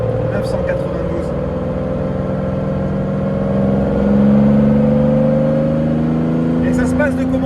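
A Porsche 911 S, the 2021 type 992 model, accelerating from inside the car: a steady loud engine note rising in pitch over several seconds, with bits of speech over it.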